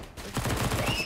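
Rapid rifle fire in Counter-Strike: Global Offensive, a quick string of close, loud gunshots that lasts about a second.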